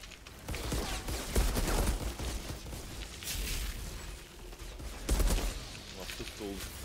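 Rapid pistol fire from a video game, quiet bursts of shots clustered in a few volleys, with a voice speaking over parts of it.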